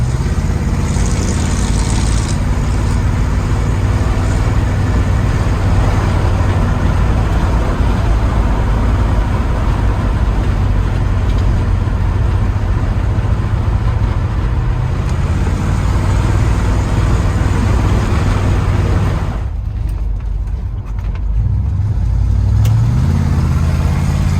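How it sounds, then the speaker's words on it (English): A 1978 Ford F-150 Ranger pickup truck engine hums with a deep, steady exhaust drone while driving at about 50 mph, briefly dipping before rising again near the end. "you can hear this truck's got really just a great sounding exhaust system on it too"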